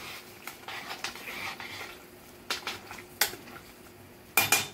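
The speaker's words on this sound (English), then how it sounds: "And I stir it up" Extra wide noodles stirred in a metal pot, a spoon scraping and knocking against the sides in a series of sharp clinks and taps, moderately close.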